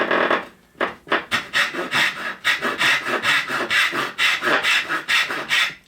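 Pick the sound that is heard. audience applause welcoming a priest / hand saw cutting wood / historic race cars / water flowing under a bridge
hand saw cutting wood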